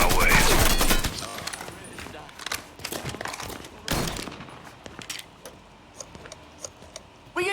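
Video game gunfire, a loud dense burst of rapid shots at first, then scattered sharper cracks and clicks further off, with voices talking over the action.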